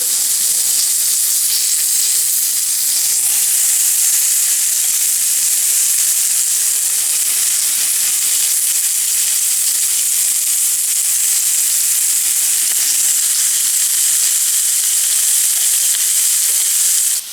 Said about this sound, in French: Alors j'ai laissé les brochettes griller.